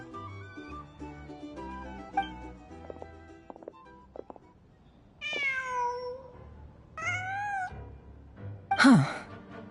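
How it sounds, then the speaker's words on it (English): A cat in Genshin Impact gives two drawn-out, rising meows, close and clear, followed by a short sharp cry. Soft game music and faint clicks run underneath. "Just a cat."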